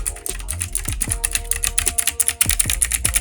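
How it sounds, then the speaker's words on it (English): Typing on a mechanical gaming keyboard with blue clicky switches, close and crisp, an irregular burst of sharp clacking keystrokes with no voices. "this keyboard is blue clicky keys"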